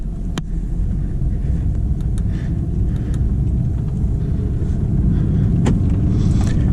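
An Audi R8 Performance cruises along with a steady, dense engine and road rumble heard from inside the cabin, continuous and fairly loud, with a few faint clicks and a slight swell toward the end.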